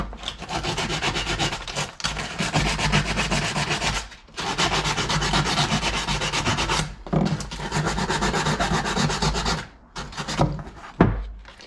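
Sandpaper rubbed hard against brake caliper parts from a 2003 Chevrolet Suburban, a loud, close, gritty scraping in long continuous back-and-forth strokes with a few brief pauses.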